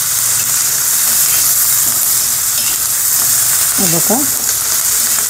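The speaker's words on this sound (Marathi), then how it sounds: "याच्यामध्ये मी लसूण आणि जिरे टाकत आहे।" Garlic and cumin sizzle in hot oil in a pan while a green chilli and tender tamarind thecha is being made, giving a steady, close frying hiss. A voice briefly speaks over it.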